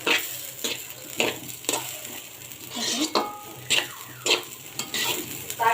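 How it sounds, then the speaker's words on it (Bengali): Food fries in a pan while being stirred with a utensil. Rhythmic scraping strokes repeat against a steady sizzle, close and clear, with no talking. "একদম চুরমুড়ে ফুটতেছে"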